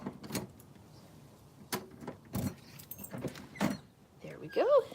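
A house door is unlatched and swung open to let a cat back inside, giving a few sharp clunks and rattles spread over several seconds, with a brief high squeak near the end and a voice nearby.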